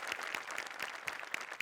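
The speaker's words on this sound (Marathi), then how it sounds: "जोरदार टाळ्या." Audience applause for a guest on a Marathi comedy show stage, a dense, steady patter of many hands clapping at moderate distance, fairly faint.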